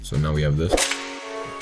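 A sharp gunshot effect in an NY drill type beat cracks out once near the middle, sitting over a sustained bass tone while someone speaks briefly at the start.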